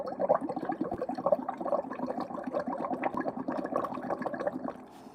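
Purified, distilled water pours and splashes steadily during a chemistry lab demonstration, a busy, continuous liquid rush at moderate loudness with no talking, tapering off at the very end.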